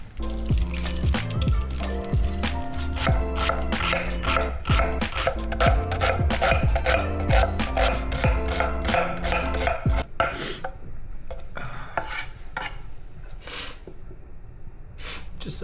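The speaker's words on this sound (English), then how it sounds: "Now that you've got most of your onions cut up" A knife chops onions on a cutting board in rapid, close taps for about ten seconds, then slows to scattered sparse cuts.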